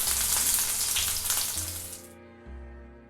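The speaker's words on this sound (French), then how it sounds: "L'huile est chaude, on va maintenant mettre l'ail coupé en rondelles à frire." Garlic slices fry in hot oil with a steady, bright sizzle that crackles for about two seconds, then drops away abruptly, leaving low clunks of the pan; nobody speaks.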